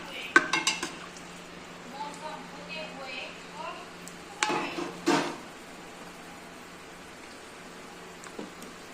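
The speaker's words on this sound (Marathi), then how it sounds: "शेंगदाण्याचा चांगला थडथड आवाज येतोय" Peanuts crackle and pop in hot oil in a pan while being turned with a utensil, with light scraping, a few louder clinks and knocks, and soft sizzling throughout at moderate distance.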